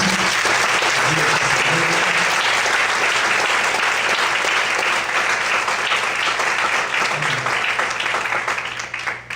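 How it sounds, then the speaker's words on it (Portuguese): A church congregation applauds steadily for about nine seconds, a dense, loud, continuous wash of many hands clapping that thins and fades at the very end. "Quantos podem aplaudir?"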